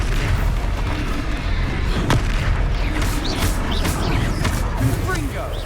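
Confringo blasting spells go off in the Hogwarts Legacy video game as a dense, continuous rumble of booming explosions, loud and close, with game voices shouting over the blasts.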